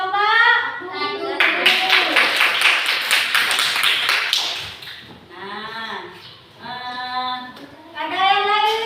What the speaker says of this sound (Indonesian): tepuk tangan kepada kawan kita dari kelompok 1